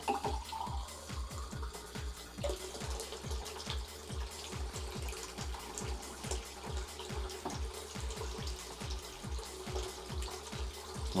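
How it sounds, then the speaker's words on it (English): Hot water poured into a heat-change Lemmings mug, a rapid rhythmic glugging pour that is close and fairly quiet, continuing steadily for several seconds with no voices. "I'm going to just put some hot water into it and we're going to see these Lemmings appear."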